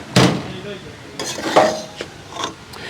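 A spoon stirs coriander leaves and green chillies into a chicken dish in a pot, with a few close clinks and scrapes of metal against the pan in a quiet kitchen.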